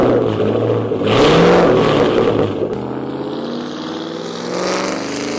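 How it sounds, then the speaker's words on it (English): A 2005–2009 Ford Mustang running a Roush Extreme axle-back exhaust and off-road H-pipe gives a loud, close rev that swells and then settles back to a rough, rumbling idle. "Here's what it sounds like on an off-road H pipe."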